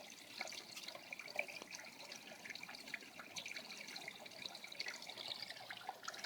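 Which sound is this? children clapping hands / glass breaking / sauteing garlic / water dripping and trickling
water dripping and trickling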